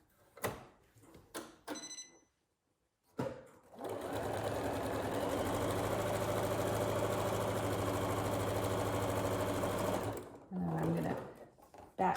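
A sewing machine runs in one long continuous stitching burst while sewing an envelope pillow, steady and close, preceded by a few short clicks and brief stitches, with a voice speaking near the end.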